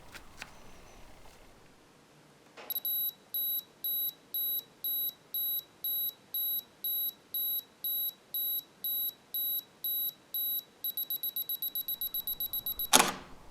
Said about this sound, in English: Self-timer mode will take an image after 10 seconds.